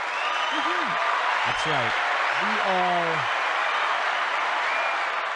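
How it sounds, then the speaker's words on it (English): Steady applause from an audience, loud and continuous throughout, with a voice speaking briefly over it. "get ready for the applause"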